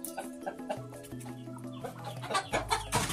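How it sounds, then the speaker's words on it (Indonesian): Chickens kept in a coop inside a kitchen of a poor household in the Bojonegoro forest cluck in short, irregular bursts at close range, over a faint steady background with tonal sounds. "Di dapur ini ada ayam-ayam."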